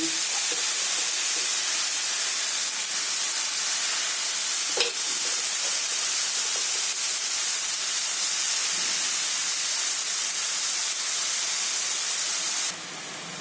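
Mustard greens hit a hot pan and hiss in a loud, steady sizzle that holds evenly, with a faint knock midway, before dropping off near the end.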